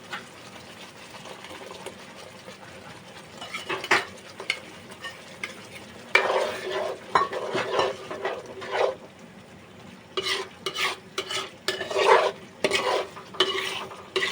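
Afghani egg curry in a Gujarati-style tomato gravy sizzles in a pan while a utensil stirs and scrapes it in irregular bursts, with quieter simmering in between.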